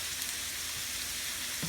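Teriyaki stir fry sizzles steadily in a pan, a soft continuous crackle of frying with faint stirring scrapes throughout, close and fairly quiet, with no voices.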